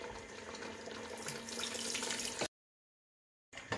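Warm water runs from a kitchen tap into a pot for Algerian harira soup, a steady rushing stream that cuts off abruptly, pauses in silence, then starts again briefly.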